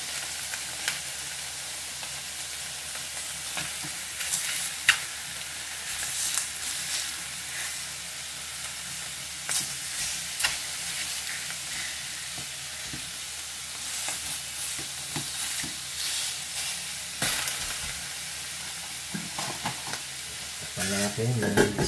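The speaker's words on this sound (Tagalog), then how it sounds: "palalabasin ko muna yung mantika niya rito bago kasi ating adobo" Meat for adobo fries in its own rendering fat, giving a continuous close sizzle and hiss broken by occasional scrapes and clacks of stirring, with little talk.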